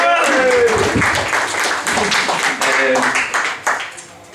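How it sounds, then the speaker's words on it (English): A comedy club audience claps loudly and continuously, a dense wash of applause with a few voices mixed in. "Can I have a clap while I remember?"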